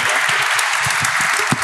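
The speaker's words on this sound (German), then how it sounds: "großen Applaus nochmal an Voltfang" An audience at a startup award ceremony in Aachen gives a dense, sustained round of applause, many hands clapping steadily throughout.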